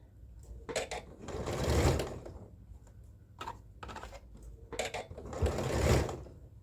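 Home sewing machine stitching a beginner's blouse, running in short bursts of rapid needle clatter separated by brief pauses, close and clear with no talk.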